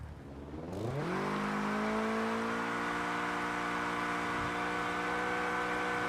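A car engine in the mobile driving game CPM2 revs up sharply as a drift begins, then holds a loud, steady high-revving drone for several seconds with no talk.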